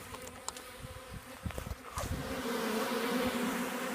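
Honeybees buzz steadily around a Boardman feeder, a close, dense hum that swells louder and fuller after a few seconds, with scattered tapping or handling noises early on.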